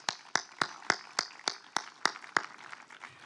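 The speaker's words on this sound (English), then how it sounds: "we should give a round of applause to all those who were responsible for the organization" A small audience at a formal commemoration of 70 years of Pakistan–German diplomatic relations claps in a sparse, rhythmic round of applause, about a dozen evenly spaced claps, fairly quiet and without speech.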